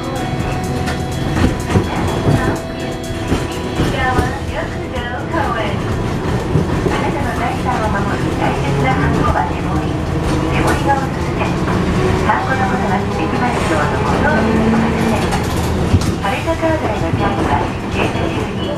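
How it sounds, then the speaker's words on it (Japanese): Interior ride on an Okayama streetcar (tram) in Okayama, Japan, with a steady rolling rumble and rattling wheel noise throughout, loud and close, with faint voices in the background. "岡山駅とホテルの間の移動に使う路面電車"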